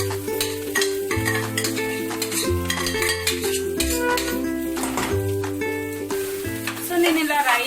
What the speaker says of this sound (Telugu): సో నేను ఇలా రైస్ వేసేసి దాన్ని ఒకసారి రివర్స్ లో కలుపుతున్నాను